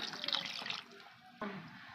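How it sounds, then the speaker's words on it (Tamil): Water poured into a pan of kurma with soaked meal maker, a soft splashing pour in the first moment, then a quieter spell and a second short pour. "இப்போ கொஞ்சமாக தண்ணி ஊற்றிக்கலாம்"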